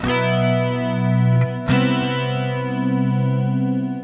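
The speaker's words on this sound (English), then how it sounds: "I'm just letting it be the power chord plus the high two strings" A distorted electric guitar power chord with the two high strings added rings out with a thick, buzzing tone, struck again partway through and left to sustain and slowly fade.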